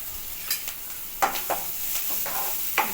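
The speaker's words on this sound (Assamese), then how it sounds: "কাটি থোৱা পিঁয়াজখিনি দি লৰাই দিম অলপ ভালকৈ" Chopped onions sizzling in hot oil in a pan alongside two dried red chillies, a soft constant fry broken by several scraping stirs of a spoon against the pan.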